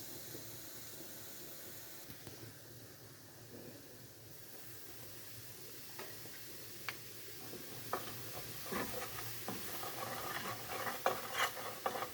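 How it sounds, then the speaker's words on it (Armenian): Garlic and flour frying in oil, a soft sizzle under irregular stirring clicks and taps against the pot that grow busier toward the end, close and quiet. "Երկու հատիկ էլ սխտոր հենց յուղի մեջ կտապակեմ, հետո կավելացնեմ ալյուր։"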